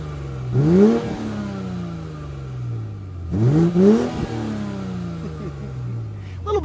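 A 2019 BMW X7 40i revs twice from idle, each blip climbing sharply then settling back to a smooth idle hum, loud and close with no speech.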